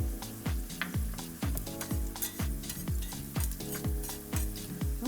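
Garlic and spinach sautéing in a skillet, with rhythmic stirring strokes scraping the pan roughly twice a second over a continuous sizzle, close and clear with no voices.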